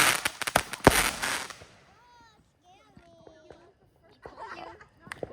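Home fireworks are set off in a backyard for the Fourth of July, giving a cluster of sharp bangs and crackles in the first second and a half, followed by faint whistling and a few scattered pops, with children's voices faint in the background.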